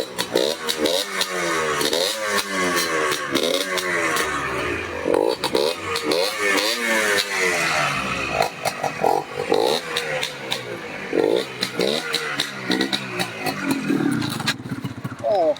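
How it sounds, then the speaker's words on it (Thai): A 1990s two-stroke motorcycle runs with a revving, buzzing engine note that rises and falls repeatedly, close and loud, while someone talks over it throughout. "เสียงสองจังหวะทูทีนี้มันช่างหอมหวาน"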